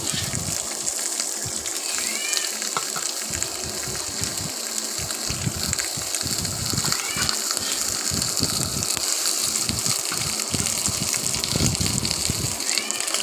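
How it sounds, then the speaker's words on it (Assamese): Pork sizzles in a kadai without any oil, a continuous loud crackling hiss with scattered pops and scraping surges that carry on unbroken and without talk. "এনেকৈ মই তেল নিদিয়াকৈ মাংসখিনি ভাজি দিছোঁ।"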